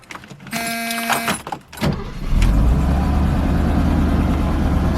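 A 4.5-litre V8 Mercedes W108 starts after a brief starter whirr, then settles into a loud, steady low-pitched idle that continues, close to the microphone.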